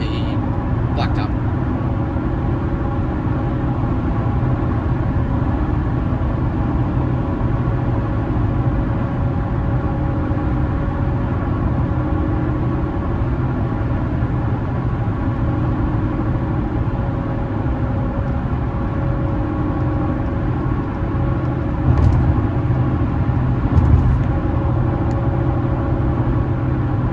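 A Toyota Tundra on Nitto Exo Grappler AWT tires drives steadily, giving a continuous drone of tire roar and road noise with a low engine hum and a few brief clunks.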